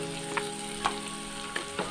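Chopped onions frying in a pan with oil for chicken pepper gravy: a fairly quiet steady sizzle broken by four brief pops or utensil taps.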